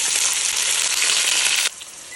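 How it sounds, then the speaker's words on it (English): Red onion frying in oil in a pan for a Nigerian beef stew, a loud, bright, crackling sizzle held steady before abruptly dropping to a quieter hiss, close up with no talking. "which is frying off our red onion."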